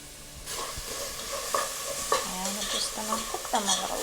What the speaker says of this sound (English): we're just gonna put our onions in and we're gonna cook them for a few minutes